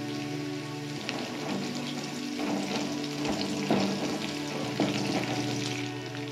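Chopped garlic and slit green chillies frying in lowered oil for restaurant-style Chicken 65, a steady crackling sizzle with occasional sharper pops and a faint hum underneath, close and alone.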